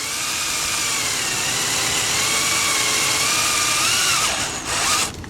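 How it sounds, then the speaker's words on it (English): A power drill whines loud and close for about four seconds while punching a pilot hole for a screw during a hinge kit installation. The pitch dips near the end as it winds down. "we'll punch a pilot hole first"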